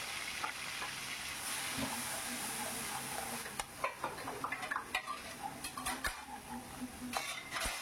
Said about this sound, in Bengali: দেখুন পেঁয়াজগুলো দিয়ে আমি একটু হালকা নাড়িয়ে চাড়িয়ে নিচ্ছি।